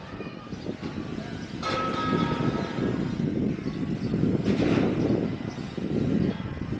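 Diesel locomotive engine number 3023 rumbling nearby, a steady broad low roar with brief hissing bursts, heard alone without talk.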